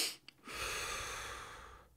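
A voice imitates a rapid, deep in-breath: a short catch, then one long, close, forceful rush of air lasting over a second before it tails off.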